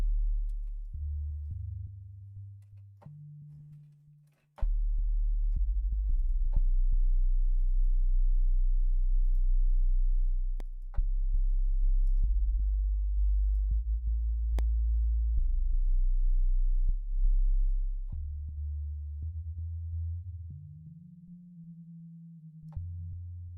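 A low, sustained synthesizer pad in a minimal electronic track drones steadily, its soft tones shifting between a few pitches with faint clicks and taps over it, with no talk.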